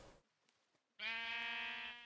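Sheep bleating in a Minecraft modpack game: a single drawn-out, loud bleat with a harmonic, nasal tone, following a short stretch of near-quiet with faint clicks.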